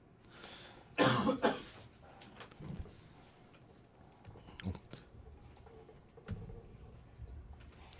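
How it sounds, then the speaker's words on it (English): A couple of sharp, loud coughs burst out near the start, followed by softer throat noises and faint rustling in an otherwise quiet space. "Hopefully not any more coughs."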